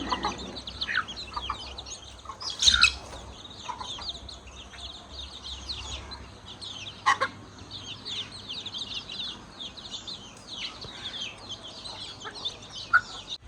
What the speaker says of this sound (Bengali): আম্মার মুরগিগুলোকে খাবার দেওয়া হয়েছে